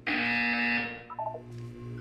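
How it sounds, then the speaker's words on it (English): A loud electronic buzzer from the Portal 2 video game blares in a sustained harsh tone for under a second, then gives way to short beeping blips and a low lingering hum. "You will hear a buzzer."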